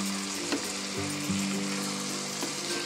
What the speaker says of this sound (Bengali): পেঁয়াজের সাথে দেশি মুরগিটা এখানে ভেজে নিয়েছি